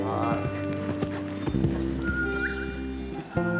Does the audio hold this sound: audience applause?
no